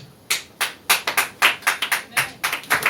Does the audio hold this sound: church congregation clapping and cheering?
yes